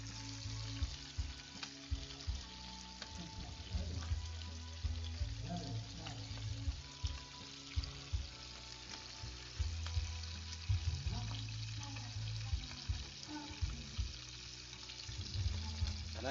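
Galunggong and tamban fish sizzling in hot oil in a Filipino home kitchen, a steady crackling fry with scattered pops and spatters throughout, fairly quiet.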